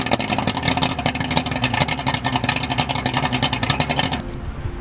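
Boat engine running steadily on a test run after repair, a loud continuous mechanical drone with a rapid pulsing rhythm, close by, cutting off abruptly near the end.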